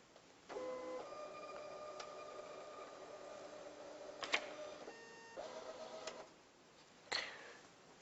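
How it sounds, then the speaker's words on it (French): A card printer runs a print job on a plastic card, giving a steady mechanical whir with tonal hum for several seconds, a few clicks and clunks, then a brief pause and a final clack, quiet and close with no voices. "Et puis vous cliquez sur imprimer."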